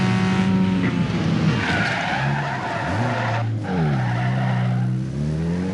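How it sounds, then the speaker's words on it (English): Tyres squeal continuously as a car drifts in the racing video game Need for Speed Underground 2, with the engine note rising and falling beneath the loud, steady skid. "Still figuring out the drifting."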